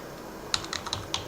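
A handful of quick, light key presses on the keyboard of an Acer Travelmate 202T laptop, close and fairly quiet, in an irregular burst against a low background hum.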